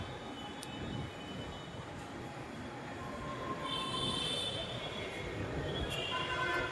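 A Hyderabad metro train pulls into the station, a steady rail rumble that slowly swells, with faint wheel squeal and small clicks.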